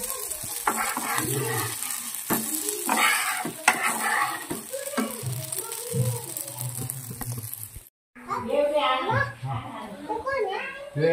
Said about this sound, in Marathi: मस्तपैकी आता भाजणीनं तेल सोडून घेते.